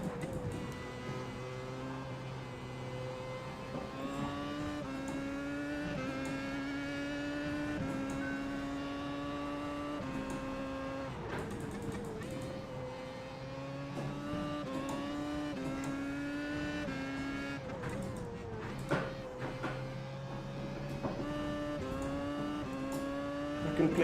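Racing car engine from a sim racing game played on Fanatec wheel hardware, a steady high whine with rising and falling harmonics through gear changes and fast corners, loud and continuous for the whole stretch.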